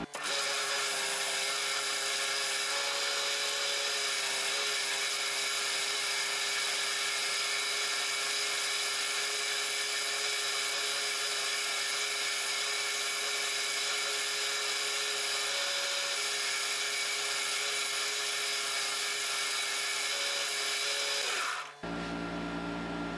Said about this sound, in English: We're going to go ahead and get some compound on here and get this thing buffed.